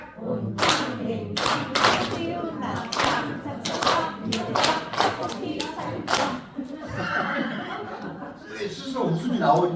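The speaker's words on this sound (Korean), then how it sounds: "박수 한 번만 쳐볼게요" Audience at a heritage-institute lecture clapping in bursts to a rhythmic chant, claps sharp and close, with laughter and a speaking voice running throughout.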